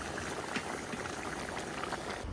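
Meat and broth for plov boil vigorously in a kazan cauldron, a dense, steady bubbling and popping close by with no talk over it.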